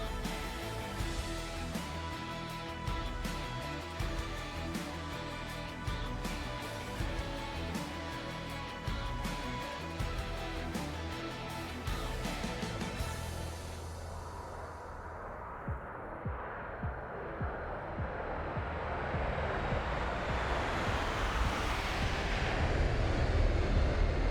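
Biele Albatrosy jet formation flying past with landing gear down at an airshow, a steady engine roar under music that swells into a loud, broad rushing whoosh as the jets pass overhead.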